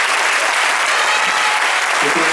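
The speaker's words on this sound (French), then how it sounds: "Donc, vous pouvez les applaudir encore de plus." Loud, dense applause from a concert audience at a folk show in Anost fills the whole stretch, steady and continuous with no let-up.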